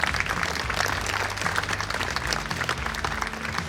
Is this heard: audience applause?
yes